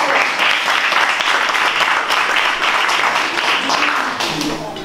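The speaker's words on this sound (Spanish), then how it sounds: "La vamos a recibir con un fuerte aplauso a Margarida Esterich" Loud, sustained applause from an audience welcoming Margarida Esterich, Balearic delegate of Agricultores Solidarios, at a cultural association event; dense clapping runs throughout and thins slightly toward the end, with faint voices underneath.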